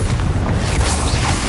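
A Confringo blast spell explodes in the PS5 game Hogwarts Legacy, a loud, dense rumbling boom with crackling debris that fills the whole moment without a break.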